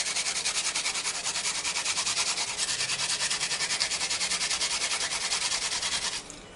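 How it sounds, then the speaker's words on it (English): A grater scrapes steadily over canned pink salmon in a kitchen, producing a fast, even rasping rhythm of close strokes that runs for several seconds and then stops. "I'm going to grate this right onto the salmon here before we mix."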